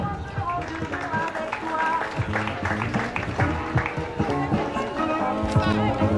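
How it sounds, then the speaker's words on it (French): An audience at a 2021 ceremony applauds with steady, rhythmic clapping and cheering for several seconds beneath a loudspeaker voice, with music and crowd noise mixed in. "On applaudit pour Zambou."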